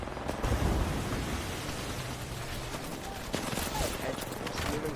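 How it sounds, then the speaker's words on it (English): Gunfire in the battle royale game Apex Legends during a late-round competitive match, dense bursts of rapid shots over a continuous noisy game backdrop, with a commentator talking throughout. "Curry is getting absolutely peppered right now"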